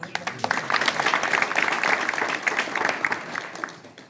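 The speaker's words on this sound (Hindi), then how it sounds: "एक बार जोरदार ताली" A village assembly (gram sabha) gathering breaks into a burst of hearty applause, many hands clapping steadily at close range for about four seconds before tapering off.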